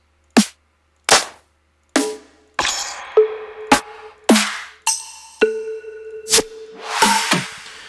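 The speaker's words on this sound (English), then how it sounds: "a drum rack that I made with a bunch of A snares in it." A series of sharp snare drum hits, about a dozen, some dry and short, others ringing with tonal overtones and rattle, played one after another with brief gaps.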